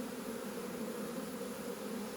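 Honeybees hum in a steady, continuous drone near their hive, an even buzz with no breaks and no voices.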